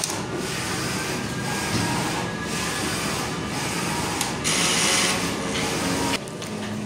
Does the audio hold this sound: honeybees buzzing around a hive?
no